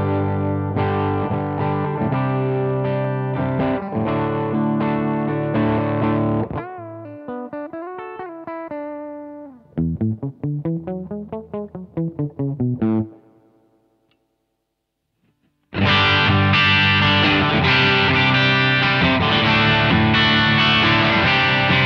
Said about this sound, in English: Let's do for the review of the sounds of this guitar as it is stock.